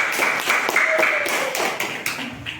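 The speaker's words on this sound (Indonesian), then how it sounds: "Oke, bagus sekali. Tepuk tangan." Brief clapping from a classroom group during a teacher's training lesson, a patter of claps heard over a tonal background, moderately loud and uneven.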